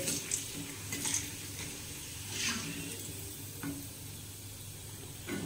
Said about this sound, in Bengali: তো পাঁপড়গুলো ভাজি